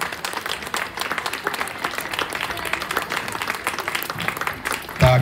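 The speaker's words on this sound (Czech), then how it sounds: "pojďme ještě jednou zatleskat" Audience at a kindergarten performance during a cabbage festival applauding the children, a dense, lively patter of many hands held steady for several seconds before a brief voice at the end.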